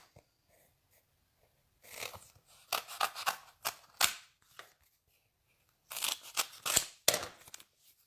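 Scissors or a paper trimmer cut through a piece of cardstock in two bursts of crisp, close snipping and scraping, with near silence between them.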